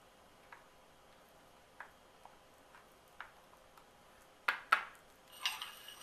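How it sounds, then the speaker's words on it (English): A spoon stirring dill, garlic powder and onion powder into melted butter, giving a few light ticks against the dish, then a short cluster of louder clinks near the end. "Just give that a little stir."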